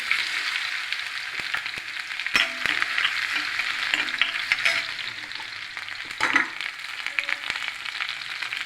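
Mustard seeds and garlic fry in a pan for a Tamil poriyal, giving a steady crackling sizzle with scraping stirs and a few sharper pops, close and continuous with no talking.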